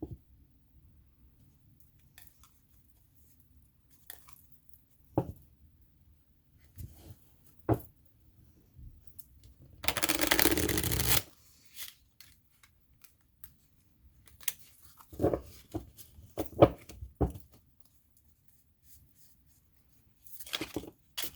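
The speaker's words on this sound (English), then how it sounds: "I think I'm going to shuffle them one more time." Tarot cards being shuffled in short bursts, with scattered soft taps and clicks and one longer riffling rush, quiet and close between pauses.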